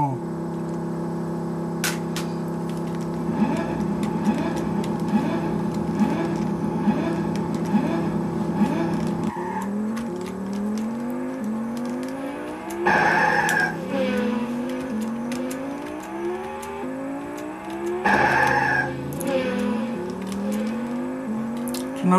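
Racing-car engines from the Amiga game F17 (Team 17) drone steadily with pitch sweeps as cars accelerate and shift, broken by brief skidding bursts, all continuous and fairly loud with no talk.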